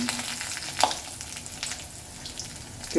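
Mughlai paratha frying in hot oil, a steady close sizzle with a few crackling pops and light scraping, and no voices.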